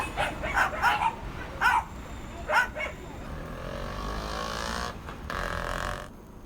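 Stray dogs cared for by a woman in Kerala bark in a quick, fairly distant burst of several yips, then fall quiet under a steady outdoor rumble and passing traffic noise.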